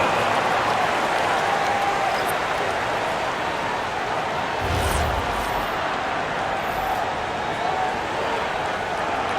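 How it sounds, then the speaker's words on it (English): Basketball arena crowd at a WNBA game applauding the dance team, a steady dense wash of clapping and crowd noise that holds at an even level throughout. "Fans, please give a big round of applause for your dance team."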